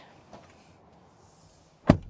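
A door of a 2026 Honda Pilot shuts with a single solid thunk near the end, close to the microphone, after a quiet stretch of faint interior movement.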